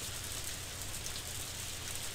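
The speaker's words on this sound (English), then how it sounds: "Why does it have to rain?" Rain falls steadily in the farming video game Harvest Moon: A Wonderful Life, a constant, even hiss of drops with no breaks or voices.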